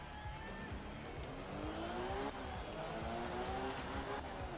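A rally car in Art of Rally, engine revving steadily with tires squealing and skidding throughout, moderately loud and continuous with rising engine pitch.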